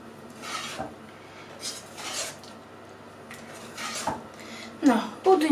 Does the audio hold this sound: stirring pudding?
yes